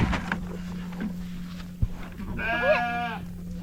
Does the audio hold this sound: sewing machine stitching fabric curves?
no